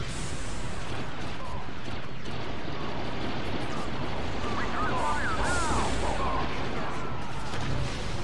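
Commando rifle scatter gun firing in Star Wars Battlefront 2 gameplay, a dense continuous barrage of loud blasts and battle noise with no pause, busy throughout.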